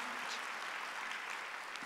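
A church congregation claps together at a Sunday worship service, a continuous even patter of many hands, steady and fairly loud from start to finish.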